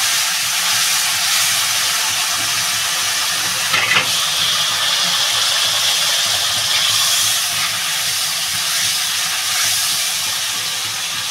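Fish and green tomato curry sizzling steadily in a pan as it is sautéed, a dense continuous hiss that holds even and fairly loud throughout with no talking.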